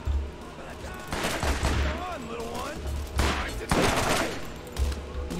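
Rapid video-game gunfire from Borderlands, with bursts of shots in clusters across the clip, loud and close, while people talk and call out over the shooting.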